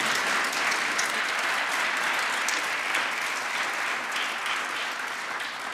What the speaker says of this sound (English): Let's give them both a real round of applause.